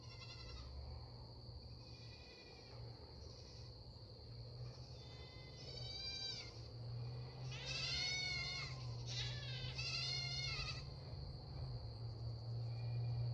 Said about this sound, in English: Y'all hear the goat screaming?